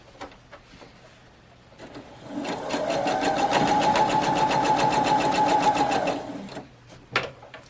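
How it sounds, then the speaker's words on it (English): A sewing machine stitches fabric pieces together for a scrap quilt, a steady rapid mechanical whir running several seconds at close range before stopping, with soft handling clicks before and after. "I'm just sewing this piece onto here to make this part longer."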